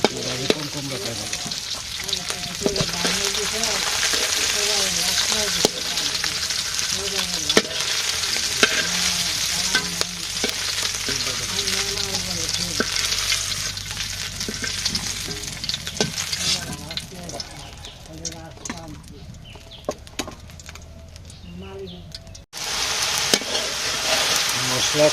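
Spices and fish fry in a pan while being stirred, a loud continuous sizzle with repeated scraping strokes throughout, briefly dipping near the end before resuming.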